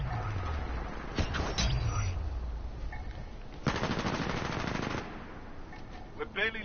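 R-201 assault rifle from the video game Titanfall 2 firing in sustained automatic bursts, loud and close, with a dense rapid stretch of shots near the middle and scattered game effects around it.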